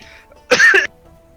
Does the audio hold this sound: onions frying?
no